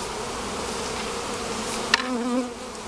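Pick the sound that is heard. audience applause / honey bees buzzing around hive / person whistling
honey bees buzzing around hive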